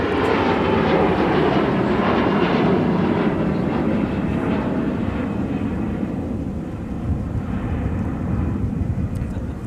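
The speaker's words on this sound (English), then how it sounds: "Another CRJ 900." A Bombardier CRJ 900 regional jet roars steadily at an airport, a loud broad engine rumble that holds throughout and eases slightly toward the end.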